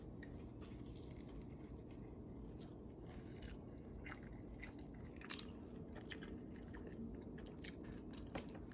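Crunchy coconut breaded shrimp from Aldi being eaten up close, with steady crisp bites and chewing crunches over a continuous low background hum, no talking.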